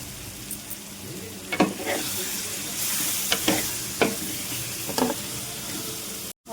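Fish pieces sizzle in oil in a pan with onions and masala for a chapala curry. The frying hiss is steady, and a utensil clinks and stirs in several sharp taps.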